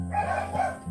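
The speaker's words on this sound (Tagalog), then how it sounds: "Ingay ng aso." A dog barks in a garden setting after rain, a single short distant woof with a faint whimpering edge.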